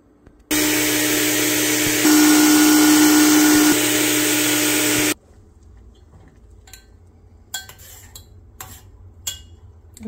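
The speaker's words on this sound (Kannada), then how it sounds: "ಸ್ವಲ್ಪ ನೀರು ಹಾಕ್ಕೊಂಡು ಗ್ರೈಂಡ್ ಮಾಡ್ತೀನಿ" A mixer grinder blending ingredients with a little water for a Malabar spinach yogurt curry, a loud steady roaring whine that shifts pitch midway, then stops abruptly, followed by faint clinks and knocks of handling.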